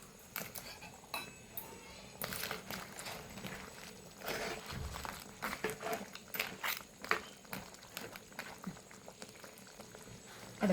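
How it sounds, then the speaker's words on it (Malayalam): Crab curry with kudampuli (garcinia) bubbling in a pot, soft irregular popping and gurgling close by at low volume, with occasional clinks of the pot. "ഇനി ഇതൊന്ന് തിളച്ച് വരട്ടെ"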